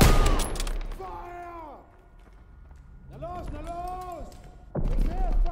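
Gunfire from the World War II shooter game Call of Duty WW2, with bursts of shots at the start and end of the clip and players talking and shouting over it throughout.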